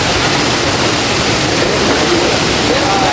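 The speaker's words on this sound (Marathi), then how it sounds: "बघा भाई मित्रांनो तुम्हाला बोलवतो ना फेमस स्पॉट आहे धबधबा." Savatkada waterfall in Konkan roars steadily and loudly throughout, a dense continuous rush of falling water close by with no pauses.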